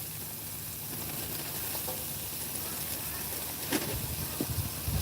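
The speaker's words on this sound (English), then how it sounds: "But that sizzle sounds fantastic." A Mediterranean vegetable mix sizzles steadily in a frying pan on a stove inside a camper van, a constant close frying hiss with a few louder pops near the end.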